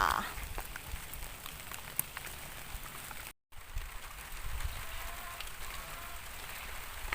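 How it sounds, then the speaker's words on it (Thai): Rain falls outdoors near a solar-panel roof shelter, a soft, steady hiss of drops with a brief gap midway, faint and continuous throughout. "ตอนนี้ฝนตกนะ ถ่ายต่อไม่ได้ค่ะ"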